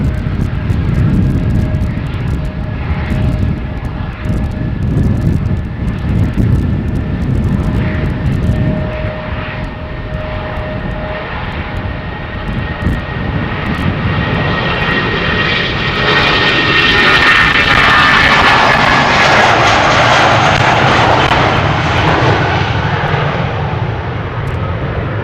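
British Airways Airbus jet taking off at Schiphol Airport, loud continuous engine roar with a steady whine, building and shifting in tone as it accelerates down the runway, heard from nearby.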